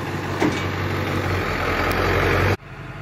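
A pickup truck engine idles steadily in the cab while the brakes are held to serve as an anchor, a close, even low rumble that cuts off abruptly near the end.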